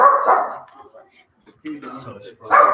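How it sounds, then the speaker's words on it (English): A dog barks and yips in short bursts during an indoor gathering, loud and close, with people talking around it. "Sorry, the dog didn't like the fact that Anna just left"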